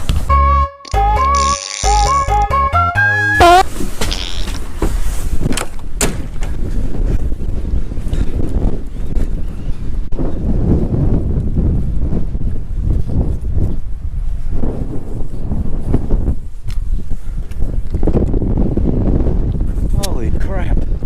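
Strong wind roars outdoors in Cripple Creek, Colorado in winter, buffeting the microphone with loud, gusty rumbling throughout, while a voice speaks briefly and a short musical jingle plays at the start.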